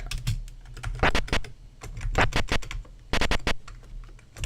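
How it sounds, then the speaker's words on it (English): Quick bursts of computer keyboard typing, with key presses clustered in short irregular runs that are close and fairly loud, used to control Karateka on an emulated Commodore Amiga. "let's try using the keyboard"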